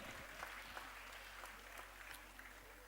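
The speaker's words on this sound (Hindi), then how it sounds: "तालियां बजाकर स्वागत करें दीदी का।" Audience applause welcoming a dance teacher at a dance school's foundation day function, a steady wash of clapping from a crowd, fairly faint and distant, lasting throughout without talk.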